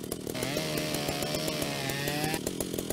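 Power saw in Ship Graveyard Simulator grinding through metal on a ship hull, a loud continuous whining cut with steady engine hum and rattling pulses, starting and stopping abruptly at the ends.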